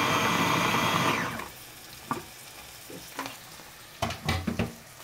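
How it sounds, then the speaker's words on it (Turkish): Chopped onions sizzle in a hot pan for nasi köfte, a loud steady frying hiss at first that drops away, followed by a few scattered stirring scrapes and clinks. "Ben bunu hem kavurayım birazcık"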